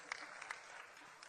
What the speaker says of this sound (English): Folks, don't hold the applause in.